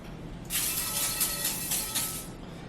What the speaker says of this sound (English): we're going to be using a pan spray